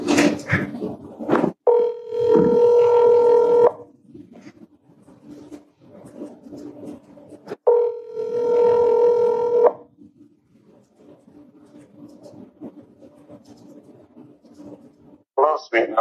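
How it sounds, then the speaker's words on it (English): A telephone call being placed: a few short keypad tones, then two long electronic ringback tones separated by a pause, with faint background noise between rings and a brief voice at the end. "So here goes the phone call."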